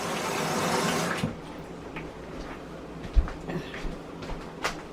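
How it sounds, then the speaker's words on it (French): Water pours into a cooking pot with a full, rushing splash for about a second, followed by quieter sloshing and small knocks from the pot. "Et je veux ajouter l'eau pour mijoter tous les condiments que je viens d'ajouter"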